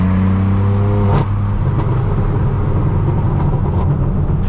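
A straight-piped BMW M4 F82 roars loud and close, a sharp rev spike near the start giving way to a sustained, rumbling exhaust drone that holds steady to the end.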